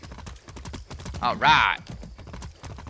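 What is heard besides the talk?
horse hooves galloping in video game Far Cry 6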